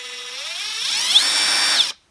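Kobalt 24V max 3/8-inch cordless impact wrench running in reverse, a steady high whine that ramps up in pitch over about two seconds and then cuts off abruptly, close and alone.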